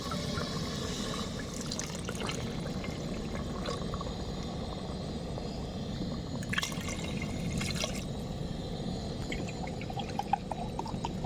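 Water is poured steadily from a glass into a pot for prawn biryani, four and a half glassfuls, in an outdoor lemon orchard setting; a continuous close splashing stream with a few louder drips and sloshes, no talking.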